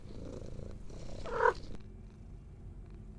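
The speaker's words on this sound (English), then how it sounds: "That explains the purring that I hear" Church the cat purrs in the horror game Pieces of Me, a soft, steady rumbling purr that rises briefly, then cuts off to a low, quiet hum.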